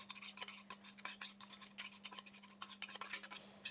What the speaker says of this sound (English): I'm just going to continue stirring because I want the cheese to melt